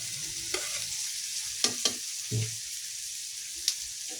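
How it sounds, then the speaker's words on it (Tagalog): Food is stirred in a hot pan under a steady frying sizzle, with a few sharp scrapes and clinks of the utensil against the pan at irregular moments, close and moderately quiet. "mikos-mikos lang natin."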